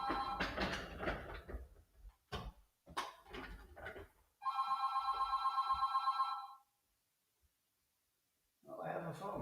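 A telephone bell rings in a rapid, even trill for about two seconds after a stretch of talking, then stops; a voice returns at the end.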